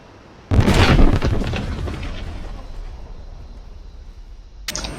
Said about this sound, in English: Try to drop a bomb.